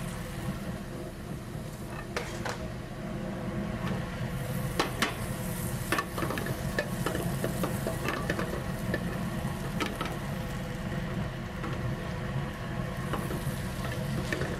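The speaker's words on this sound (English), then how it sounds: "in a medium to low heat pan, we're going to put in a couple of tablespoons of butter and let that melt" Butter melting in a pan over medium-low heat gives a steady low sizzle with scattered clicks and light scrapes. The sound stays constant and moderately quiet throughout, with no talking.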